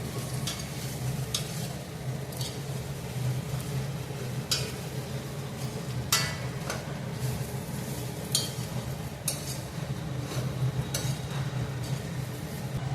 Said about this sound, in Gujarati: હવે એમાં મુઠ્ઠી આપણે ઉમેરી અને બધું હલાવી નાખીશું